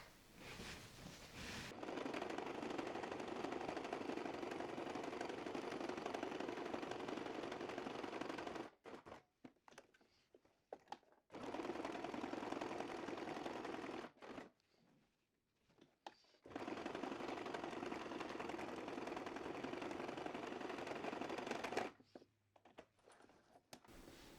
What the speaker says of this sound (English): we're going to head over to the machine, we're going to sew around each letter